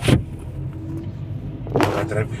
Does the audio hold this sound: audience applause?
no